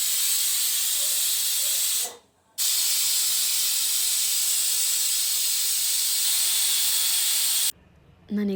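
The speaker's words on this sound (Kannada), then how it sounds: "ನಾನೀಗ ಮಟನ್ನ 2 ವಿಜಿಲ್ ಹಾಕಿಸ್ಕೊಂಡಿದ್ದೀನಿ." A pressure cooker on the stove with young mutton and coriander inside gives a loud, steady hiss of escaping steam that runs almost the whole time, cut off by two brief silent gaps.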